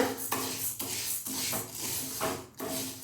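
Millet grains dry roasting in a pan make a continuous dry rasping and scraping, stirred in repeated strokes with short pauses between them, close and fairly loud.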